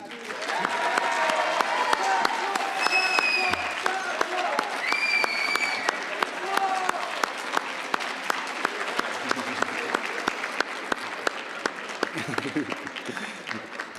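Sustained audience applause at a Pan African Mathematics Olympiad ceremony, dense steady clapping from a large crowd lasting throughout, with a few whistles or cheers rising above it.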